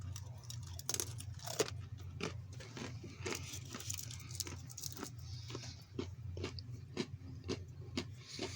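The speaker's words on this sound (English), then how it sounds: "Let's get some more pretzels down." Crunchy pretzels from a US military MRE are chewed up close, with repeated crisp bites and crunches in an irregular rhythm and no talking.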